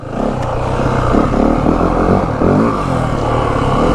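A 2025 Yamaha WR 450F dirt bike fitted with a G2 throttle tamer, ridden slowly through slow terrain: a loud, close, steady low engine chug with slight throttle variations and faint clatter, no talk.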